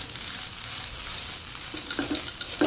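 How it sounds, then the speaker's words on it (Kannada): Grated coconut fries in a pan for jackfruit-seed laddu, a steady close hiss of sizzling with a few faint stirring scrapes near the end, no talking. "ಹಾಗೆ ಇವಾಗ ಇದನ್ನು ಸ್ವಲ್ಪ ಫ್ರೈ ಮಾಡ್ತೇನೆ."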